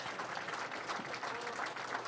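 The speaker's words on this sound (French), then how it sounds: "une bonne main d'applaudissement" Steady applause from an audience at a graduation-style gathering, dense, even clapping filling the whole stretch at moderate distance with no pauses.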